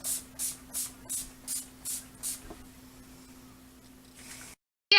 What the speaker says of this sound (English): All-nighter makeup setting spray.